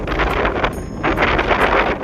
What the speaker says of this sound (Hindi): इतनी तेज हवा चल रही है कि हम हिल रहे हैं।